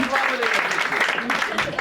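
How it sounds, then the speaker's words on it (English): A comedy-show audience applauds and cheers in a dense, continuous roar of many hands, mixed with crowd voices and some talk throughout. "Round of applause for the Turkish guys."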